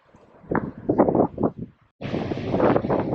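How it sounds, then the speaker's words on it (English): Wind at Hamelin Bay beach buffets the microphone in gusty, rumbling bursts, pausing briefly before a sustained, louder roar of blowing wind. "she's just a bit windy, so we'll go for a wander"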